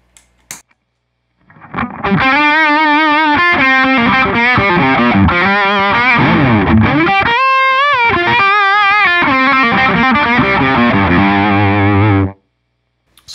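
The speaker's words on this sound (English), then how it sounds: "And now here's with the distortion pedal." An electric guitar through a distortion pedal into an amp rig plays thick, saturated chords and bends with long sustain, loud and continuous for about ten seconds before cutting off.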